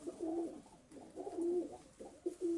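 Pigeons coo softly nearby in low, throaty, rolling calls, three or four bouts in quick succession with short pauses between, alone and fairly quiet.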